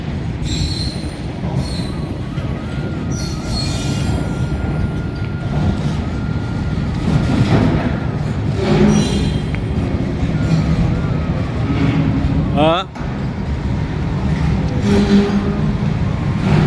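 A train rumbles past close by, its wheels squealing and screeching in drawn-out whines over a steady heavy roar.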